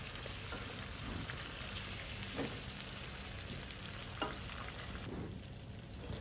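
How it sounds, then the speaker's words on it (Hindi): Steady sizzling and crackling of chicken frying with onions in a pan, quiet and continuous, with occasional soft stirring scrapes and no talking. "अब मैं इन प्याज़ों में इस चिकन को फ्राई करूंगी"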